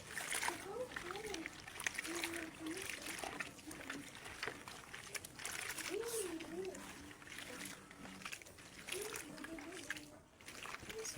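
Water splashes and sloshes steadily while homemade powder detergent is mixed by hand, close and continuous, with voices talking over it.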